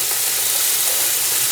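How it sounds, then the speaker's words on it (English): Steady, loud sizzle of sausage frying in a pan for Thanksgiving stuffing, a continuous hiss with no talk. "You want to hear that little sizzle"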